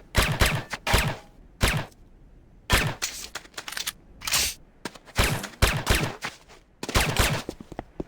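Weapon fire on a shooting range in Command & Conquer Renegade: loud, close shots in repeated clusters and rapid strings, separated by short pauses as targets are hit.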